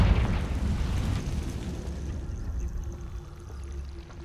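Confringo fire spell cast in Hogwarts Legacy: a loud, close burst with a deep rumble that rolls on and slowly fades over several seconds, with no voices.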